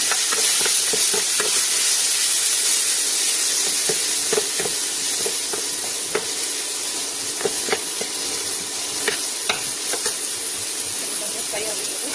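Chopped onion and tomato frying in a pan give a steady loud sizzle and hiss, with scattered clicks and scrapes of stirring throughout.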